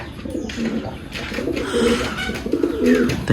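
A large male Andalusian pouter pigeon coos in a cage nearby, giving several low, throaty, rolling coos in a row, with faint bird chirps in the background.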